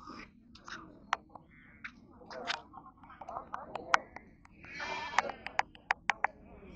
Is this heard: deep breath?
no